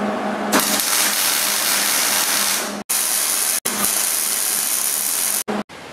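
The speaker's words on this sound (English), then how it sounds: "I'm going to go ahead and put a tack weld on this piece" A tack weld laid on a cut piece of chain produces a steady, loud crackling hiss that runs for several seconds, broken by a few brief cutoffs where the arc stops and restarts.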